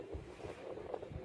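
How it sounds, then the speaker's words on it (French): Gusty wind buffets the microphone in low rumbling bursts, a short stretch of blustery outdoor noise with no voices. "Bah là, il y a du vent, mais c'est normal, c'est la nature."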